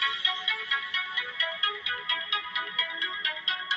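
Synthesizer playing a triangle-wave tone in a quick, repeating, bouncy melodic pattern, fairly loud and steady, with no speech over it.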